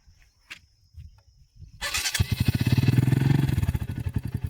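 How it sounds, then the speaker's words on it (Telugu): A TVS motorcycle engine starts after a brief quiet moment, catching with a rough low putter that settles into a steady, fairly loud idle close by. "vehicle start చేయబాబు"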